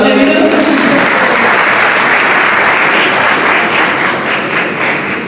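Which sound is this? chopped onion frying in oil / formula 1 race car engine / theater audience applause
theater audience applause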